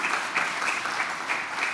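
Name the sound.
audience applause for a start-up pitch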